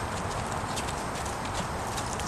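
A four-year-old Quarter Horse being ridden in retraining gives a steady, close clip-clop of hooves with a constant even rhythm, and no voices over it.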